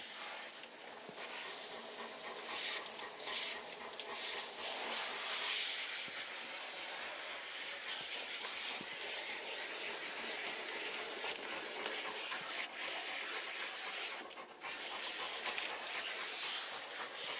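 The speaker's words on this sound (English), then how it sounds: "Let's do a rinse down." Water spray hisses steadily as a big, very dirty dog with a thick coat is rinsed down, a soft, continuous rushing spray with small fluctuations and no talking.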